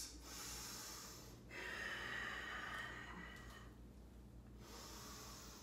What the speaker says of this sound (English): And just take a few deep breaths.